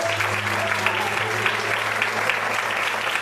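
Steady applause from a large church congregation, continuous and fairly loud throughout, with no pauses.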